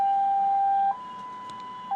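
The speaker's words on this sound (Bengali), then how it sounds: "অনেক সময় দেখা যায় যানজটের মধ্যে অসহায়ভাবে সাইরেন বাজাচ্ছে অ্যাম্বুলেন্স" An ambulance siren wails in stalled Dhaka traffic at the Bijoy Sarani signal, a steady two-tone note switching pitch twice, loud and close over a low traffic rumble.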